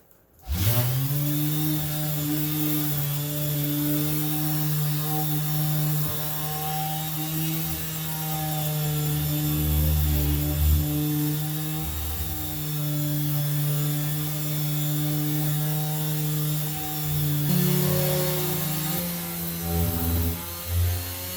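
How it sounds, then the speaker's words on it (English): A mouse sander whirs continuously at a steady pitch, close and loud, with slight variations as it moves across yellow cedar boards. "I'm running over these boards with a sander a little bit"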